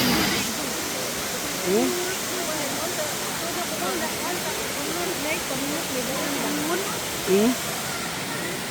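Tumalog waterfall rushing steadily, a loud continuous roar of falling water filling the whole scene, with a few brief voices speaking close by over the top.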